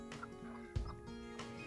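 Chickens kept on a dairy farm cluck and gobble faintly in the background, in short scattered calls over low farmyard noise.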